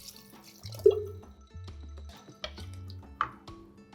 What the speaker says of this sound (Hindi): अब इसके अंदर हम ऐड करेंगे पानी।